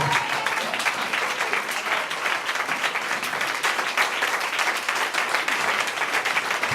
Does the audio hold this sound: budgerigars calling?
no